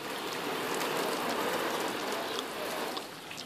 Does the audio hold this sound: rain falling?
yes